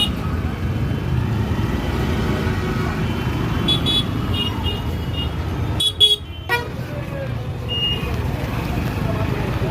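A busy traffic jam on a road, with a steady rumble of engines and a few brief horn toots around the middle, heard from among the vehicles.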